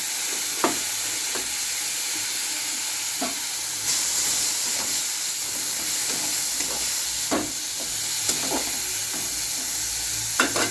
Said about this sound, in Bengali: ঘি দিয়েছি এবং তাতে জিরে ফোড়ন দিয়েছি, দিয়ে আমি পালং শাক, আদা, জিরে